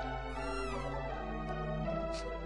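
A single drawn-out cat meow in the video game Chrono Trigger: Crimson Echoes rises and falls, fairly close, followed by a few soft clicks over a low steady hum.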